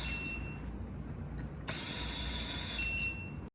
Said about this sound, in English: To start the ASP series, push down the screwdriver for clockwise rotation.